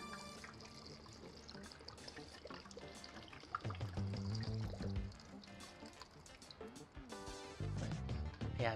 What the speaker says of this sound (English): Then, I'll add a liter of water.